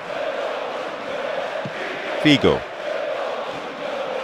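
A stadium crowd in the football video game PES 2009 sends up a constant roar of cheering, with a commentator's voice briefly cutting in over it.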